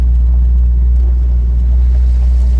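A 1972 Chevy Nova's stock 350 V8 with dual exhaust: a deep, steady engine idle with a low rumbling exhaust throb, close and continuous, no voices.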